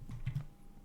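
A few quick keystrokes on a computer keyboard, soft and close, in a brief cluster of light clicks followed by a pause and one final tap.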